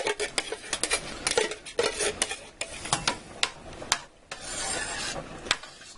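Puttanesca sauce being stirred in a pan, a utensil scraping and rasping against the metal in uneven strokes, close and fairly loud, with no talk.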